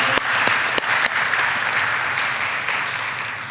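Applause fills a hall at a university graduation ceremony, a steady dense patter of many hands, with a few sharp nearby claps at the start before it settles into an even wash.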